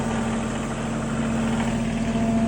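A farm tractor engine idles steadily and loudly nearby during hay bale feeding, a constant low rumbling drone with no breaks.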